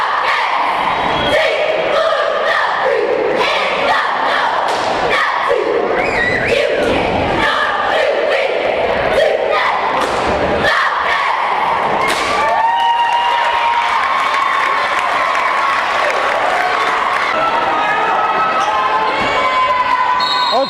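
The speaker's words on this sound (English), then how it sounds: "Northern Adirondack cheering squad on the floor." Cheering squad at a boys' high school basketball game in a gym, loud crowd chanting and cheering continuously with rhythmic thumps and bursts of voices throughout.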